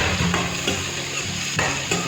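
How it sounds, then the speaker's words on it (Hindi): Cut potatoes frying in a pan for a cabbage sabzi, a steady close sizzle with occasional stirring scrapes and light clinks, with no talking. "अब मैं कटे हुए पोटैटो इसमें डाल दूंगी"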